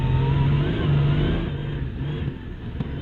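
A MINI ALL4 Racing Dakar rally car drives on snow and ice in Lapland, its engine droning loud and close from inside the cabin as it pulls through the gears, easing slightly toward the end.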